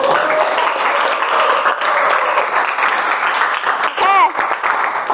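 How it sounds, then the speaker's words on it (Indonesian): A class applauds a student after a physics presentation, a dense round of clapping under a nearby voice, with a brief squeaky tonal sound near the end. "Tepuk tangan dulu."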